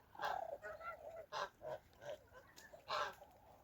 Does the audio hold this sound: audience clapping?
no